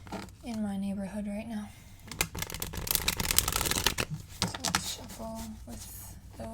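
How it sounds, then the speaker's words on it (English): Tarot cards shuffled by hand in a quiet room, a dense crisp riffle of papery flicks and snaps lasting a couple of seconds, with someone speaking softly before and after. "So let's shuffle with"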